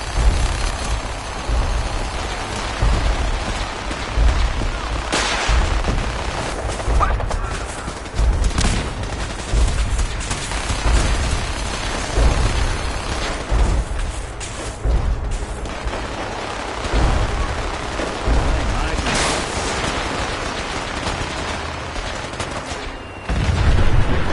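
Sustained gunfire from automated sentry weapons in Fallout 4 with mods, loud dense bursts and booming volleys rattling nonstop across a battlefield, with a few heavier blasts.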